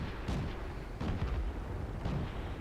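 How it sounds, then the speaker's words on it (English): Artillery shells fire and burst in World of Tanks gameplay, three muffled low booms spaced about a second apart over a dense, rumbling battlefield background. "Nice artillery shot."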